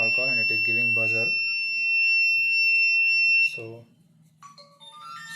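A high, steady electronic buzzer alarm from an alcohol detector rings continuously after detecting alcohol, with a voice speaking over it at the start and again briefly before it stops.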